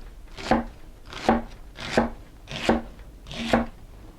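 A knife chops through celery stalks on a cutting board for homemade chicken stock, five evenly spaced crisp crunching strokes, close and distinct with no talk.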